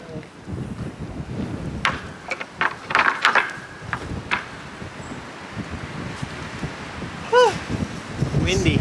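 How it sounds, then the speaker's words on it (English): Gusty wind buffets the microphone with a steady low rumble, while a few voices call out briefly over it. "Windy. So windy."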